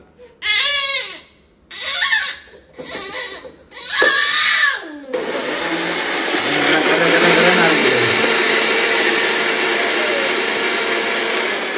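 A mixer grinder blends a banana milkshake with boiled, cooled milk, starting after a few seconds of voice and then running as a loud, steady whirring roar that lasts to the end.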